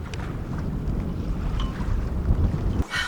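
A heavily reefed sailboat moves slowly through 9 to 10 knots of wind, with steady rushing wind noise and low water wash around the hull, ending in a brief louder gust.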